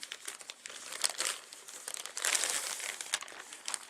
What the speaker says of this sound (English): let's just get it out of the packaging here